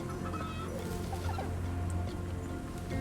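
Chickens cluck softly in a small video-game farm in Ragnorium, faint and mixed under a busy game soundscape with scattered bird-like chirps.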